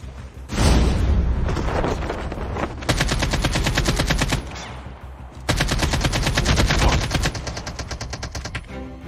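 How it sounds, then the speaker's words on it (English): AK-47 and PDW-57 fire in Call of Duty Mobile, loud sustained automatic bursts in several long strings with short pauses between them, close and dense, no talking. "They both shooting at me. One with an AK-47 and the other with"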